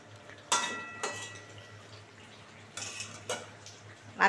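A spoon scrapes and clinks against a pan while mourala fish curry is gently stirred, giving a few sharp metallic taps spaced apart over a faint, quiet background.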